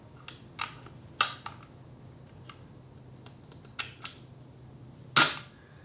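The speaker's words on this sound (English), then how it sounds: "you should be able to cock it and pull the trigger and shoot" A rebuilt air gun produces a run of sharp mechanical clicks and snaps as it is cocked, followed by a louder crisp shot near the end, each sound isolated against quiet background.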